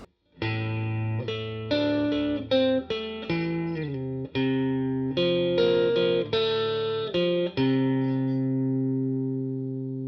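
A clean-toned electric guitar riff from northern soul music, plucked single notes and short phrases, each note decaying, ending on a longer ringing note; moderately loud, no talking.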